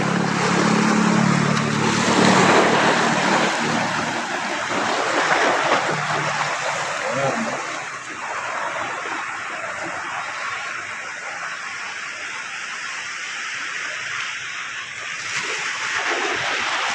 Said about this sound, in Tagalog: yung karagatan.